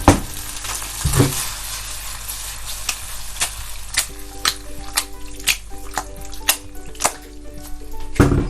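Chilli chicken sauce loaded with tomato ketchup sautés briskly in a pan, a low sizzle under a steady run of sharp spatula scrapes and knocks against the metal, with a louder scrape at the start and end and no speech.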